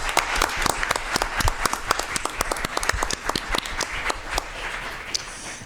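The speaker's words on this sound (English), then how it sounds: "Give them a round of applause." Applause at a school board meeting: distinct, sharp claps from a modest crowd, fairly sparse and close, fading toward the end.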